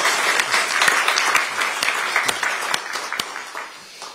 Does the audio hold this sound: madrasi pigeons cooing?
no